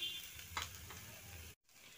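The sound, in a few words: frying taro and red pumpkin in a pan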